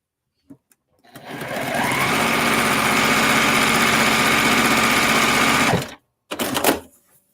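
A sewing machine stitches a quilt block in one loud, continuous run of rapid mechanical whirring lasting several seconds. It cuts off abruptly, then a short burst of machine noise follows, with no voices.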